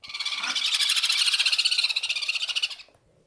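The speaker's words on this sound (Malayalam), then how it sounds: "നല്ല കളർഫുള്ളായിട്ടുള്ളതും എന്നാൽ സാധാരണ ഒരു നാടൻ തത്തനേക്കാൾ കുറച്ചൊരു വലിപ്പം വെക്കുന്നതായിട്ടുള്ള ഒരു പക്ഷിവർഗമാണ് ജെൻഡേ കുനൂറ്" Jenday conure parrot chick calling in a rapid, insistent series of harsh, buzzy squawks that continue steadily for nearly three seconds before stopping abruptly, close and loud with no talking.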